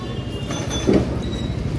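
A Kolkata tram rolls along a street in Hatibagan, a steady low rumble with a brief louder swell as it passes, mixed with general street noise.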